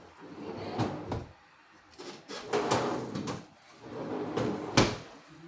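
A drawer in a modular aluminum kitchen cabinet slides open and shut several times, with sharp knocks and rattling at each stroke, close and clear with no talking.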